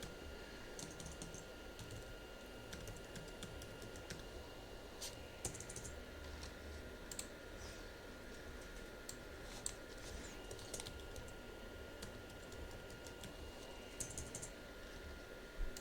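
Typing on a computer keyboard to enter an email and password, a quiet, continuous patter of light key clicks that speeds up and slows down with a few louder taps.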